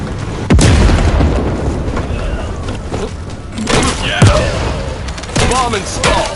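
Planted bomb going off in The First Descendant, a series of loud, close blasts and bursts with sharp cracks and rumbling debris, punctuated by several distinct detonations across the span.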